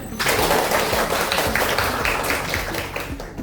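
A classroom of students applauds together, a dense run of quick overlapping claps that stays loud and steady for a few seconds before trailing off.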